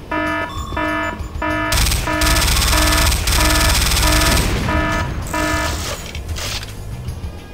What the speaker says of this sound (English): Dang it, that was the alarm.